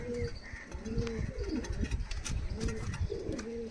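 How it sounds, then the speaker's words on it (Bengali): Oman Teddy pigeons kept as prize-winning flying birds coo repeatedly in low, rolling phrases, close by, with light background noise and faint talk. "এই হচ্ছে কবুতর"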